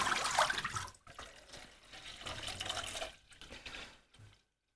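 Tap water runs steadily into a sink while paintbrushes are washed with soap and fresh water, a close splashing stream that pauses briefly a couple of times before cutting off.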